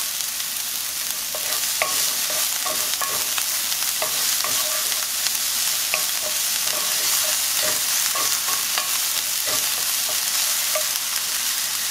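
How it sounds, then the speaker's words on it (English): Chopped yellow or white onions sautéing in hot oil in a pan, a steady bright sizzle running throughout with frequent soft scrapes and clicks of stirring, close and fairly loud, no talking. "we're gonna go ahead and saute these onions for about 2 to 3 minutes"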